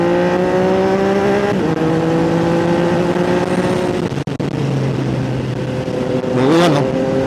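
A Triumph Trident 660 motorcycle with an upgraded exhaust pulls hard through the gears, its engine note climbing steadily, dropping at a quick shift, then rising again with a short revving flourish near the end.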